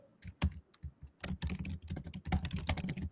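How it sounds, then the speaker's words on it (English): Rapid clicking of keys on a computer keyboard, typing in quick irregular bursts, close and clear with no voices. "Anastasia, I love how you're typing away."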